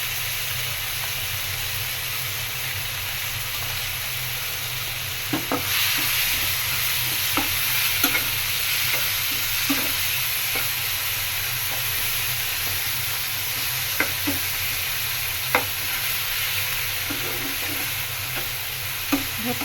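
Tilapia frying in a pan while being stirred, a steady close sizzle with occasional scraping clicks of the spoon against the pan.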